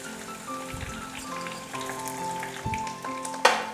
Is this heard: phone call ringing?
no